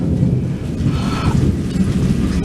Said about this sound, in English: rain's getting bad.